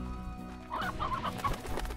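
Hens clucking in the video game Slime Rancher, a cluster of short, choppy clucks and squawks close by over a low steady background hum, with no talking.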